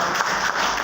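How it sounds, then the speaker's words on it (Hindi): Audience applause at a Hindi motivational talk, a short burst of dense, steady clapping from many hands in a hall. "शिवानी दीदी के लिए और जोरदार ताली बजाए।"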